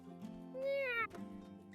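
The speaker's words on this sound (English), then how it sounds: "Meow." A cat meows once in the video game My Time at Sandrock, a clear, drawn-out mew rising and bending over a steady background of game music.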